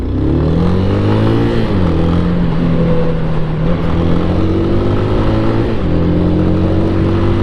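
A Braap ST250 scrambler motorcycle engine revs up and holds high, loud and close, with pitch climbing and settling across repeated throttle blips and no talking.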